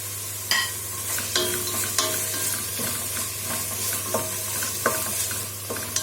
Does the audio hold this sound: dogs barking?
no